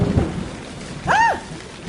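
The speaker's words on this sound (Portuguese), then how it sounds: "o estrondo alto do trovão ribombou meu coração" A thunderstorm sound effect with rain hissing steadily, then a single rumbling thunder burst rising and fading in the middle, fairly faint overall.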